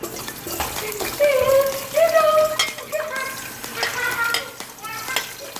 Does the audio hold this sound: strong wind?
no